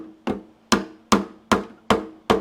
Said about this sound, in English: I think we're gonna need a hammer